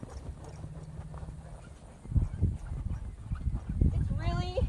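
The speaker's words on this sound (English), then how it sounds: "So get her trotting. Just a nice easy trot." A horse trots on thick sand, giving dull, muffled hoof thuds in a steady rhythm that grow louder partway through, with a person talking and a dog whimpering faintly near the end.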